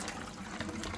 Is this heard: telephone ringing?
no